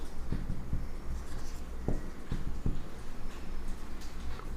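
Numbers are handwritten with a pen on paper during a fourth-grade maths lesson: scratchy strokes and scattered small taps of the pen, steady and close, over a low background hum with no talking.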